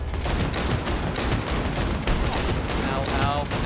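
Rapid, sustained shotgun gunfire from the video game Cyberpunk 2077 blasts continuously and loudly, with dense overlapping shots and no pauses.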